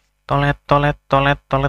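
A voice imitates a hospital alarm with four loud, evenly spaced, tonal syllable bursts, close to the microphone, separated by short silent gaps.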